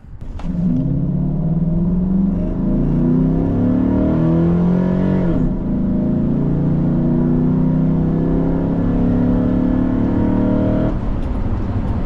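A Chevrolet Silverado pickup engine fitted with a Rough Country cold air intake revs hard and holds at wide open throttle, a deep, throaty roar that climbs in pitch, dips briefly, then climbs again before cutting off.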